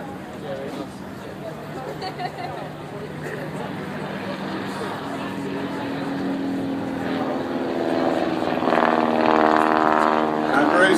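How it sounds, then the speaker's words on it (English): Vintage WW1-era aircraft, including a Sopwith, fly overhead at an air show, a propeller engine drone that grows louder and nearer toward the end, with an announcer speaking over it. "And a true sky full of aeroplanes, the average age of which is coming close to 100 years old."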